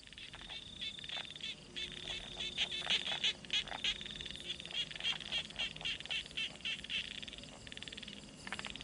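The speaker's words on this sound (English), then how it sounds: "to the sounds of a jungle night in Vietnam as you lay in ambush" Frogs and other animals call through a jungle night in Vietnam: dense, quiet chirping and croaking with rapid pulsing calls, heard from a distance with no talk.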